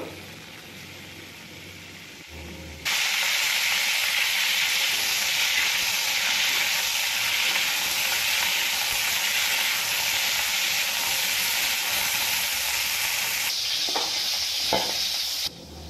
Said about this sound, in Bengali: আমি সবজি ভাজতে নিয়েছি সাদা তেল। প্রথমে ফুলকপিটা ভেজে নেব।